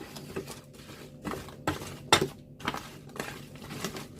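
Spam hash is stirred in a pan with a utensil, giving repeated scraping, clattering strokes at a loose rhythm, close and moderately loud with no talking.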